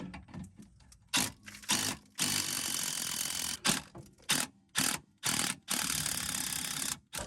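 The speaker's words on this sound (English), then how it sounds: "I got the 14 millimeter ratchet there" A 14 mm ratchet wrench turning car suspension bolts, heard as close bursts of rapid clicking in short strokes separated by brief pauses, fairly loud with no speech.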